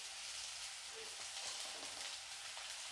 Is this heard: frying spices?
yes